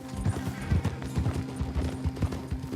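A horse's hooves clopping at a trot in the game Red Dead Online, a steady run of quiet hoof beats over a low background drone.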